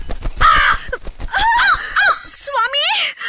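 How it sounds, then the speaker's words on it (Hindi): A crow caws in a dramatized Hindi Ramayana audiobook, harsh repeated cries mixed with strained vocal sounds, loud and close, with voices throughout. "ये कौवा यहाँ क्यों शोर कर रहा है?"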